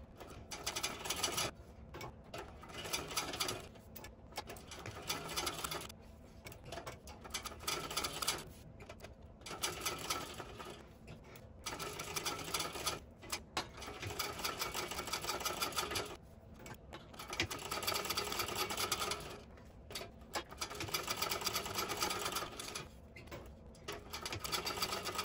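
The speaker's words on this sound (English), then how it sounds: "So I am going to chain stitch them all." A sewing machine runs in repeated bursts of rapid mechanical stitching, chain stitching a bag, each run lasting a few seconds and separated by brief pauses, close and clear with no voices.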